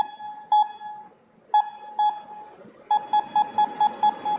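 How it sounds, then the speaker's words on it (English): Steelmate wireless buzzer paired with an ECU sounding a series of clear electronic beeps, a few spaced single tones followed by a quicker steady run of six short beeps, loud and close with no talking. "we can see the buzzer with the ECU is wireless"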